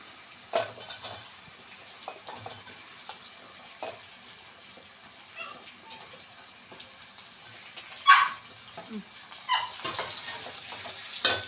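Bitter gourd frying and being stirred in a pan, with a low sizzle broken by scraping stirs and a dog barking in the background.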